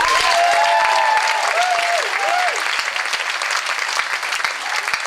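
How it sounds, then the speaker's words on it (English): An audience at a live stage performance applauds, with loud, dense clapping throughout and a few whistles rising above it early on. "So, round of applause for Jamie Lazarus"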